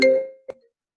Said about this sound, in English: Somebody's phone going off.